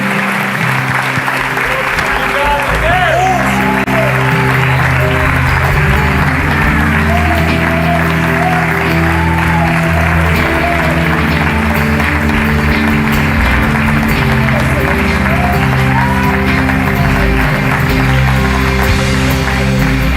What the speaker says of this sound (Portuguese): Amados, vamos aplaudir novamente ao Senhor